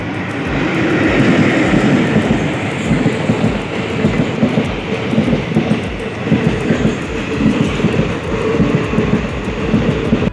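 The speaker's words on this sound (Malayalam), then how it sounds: "ട്രെയിൻ വരുന്നുണ്ട്." A train rumbles past close by on the railway, a loud continuous roar with rhythmic clickety-clack of wheels over rail joints throughout, no voices.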